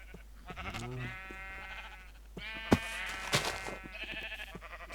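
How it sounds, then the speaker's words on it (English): Sheep bleat in the Minecraft Feed The Beast game, several short nasal calls in a row: one at the start, then sharper overlapping bleats with a click-like burst in the middle, all fairly close and clear. "It must have been the sheep eating grass or something"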